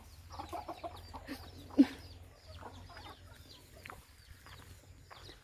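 Hens cluck in short bursts around the yard, with a sharper squawk partway through and a low steady hum underneath.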